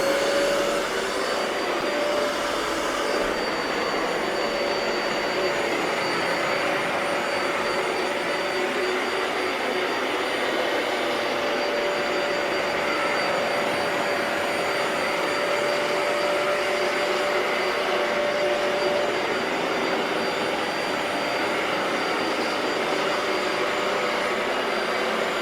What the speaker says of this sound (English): You turn the vacuum on, the red button on the side.